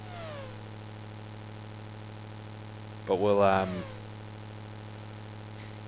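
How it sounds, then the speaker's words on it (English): Race car engines from the video game IndyCar Racing 1, running the 1993 Indy 500, drone with a steady buzzing whine. A brief burst of revving rises midway under a short spoken phrase. "if you can hear that lovely sound"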